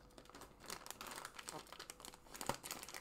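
Plastic package wrapping crinkles and rustles steadily as it is opened by hand, with crackling bursts close up and a sharper crunch near the end.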